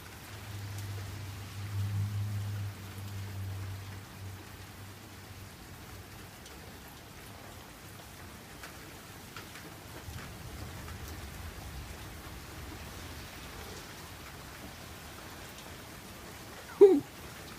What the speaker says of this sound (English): sitting out here filming the storm that might or might not cause a power surge.